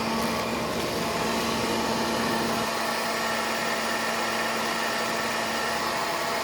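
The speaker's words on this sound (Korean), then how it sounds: "보일러 모터 소리는 들리고" A boiler motor runs steadily in a strawberry-farm plastic greenhouse, giving a continuous mechanical hum with a broadband whir, close and even throughout with no talking.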